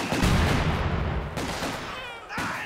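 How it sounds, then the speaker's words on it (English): A sniper rifle shot in Company of Heroes 2 rings out amid loud ongoing battle noise, followed by further sharp reports near the end. "there goes another snipe"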